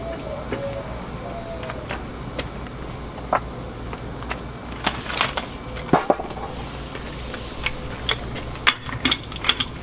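A ratchet with a 13/16 square drive removing wheel nuts on a 1977 Peterbilt 359 truck: irregular bursts of close clicking and clanking metal, louder toward the end, with no talk.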